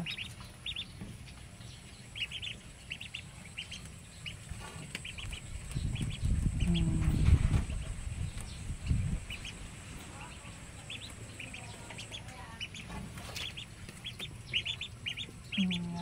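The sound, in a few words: ducks eating straw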